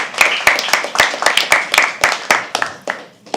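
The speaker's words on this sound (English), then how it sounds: "Can we also have a round of applause for them for sharing?" A small audience claps at a live poetry open mic, a loose scatter of about a dozen distinct hand claps, fairly close and loud, thinning out toward the end.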